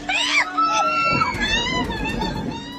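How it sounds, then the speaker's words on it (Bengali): Shrill, panicked screaming from a man hanging by both hands outside the door of a moving train rises over a noisy crowd, with several voices shouting and talking at once close by. "দরজার বাইরে দুহাতে ঝুলে থাকা এক ব্যক্তি, আতঙ্কে চিৎকার"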